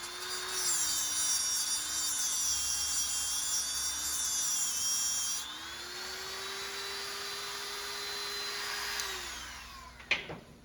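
A YESWELDER tungsten electrode sharpener grinds a dirty tungsten electrode as it is rotated, giving a loud, steady high-pitched motor whine with grinding hiss whose pitch shifts partway through, then cuts off abruptly near the end.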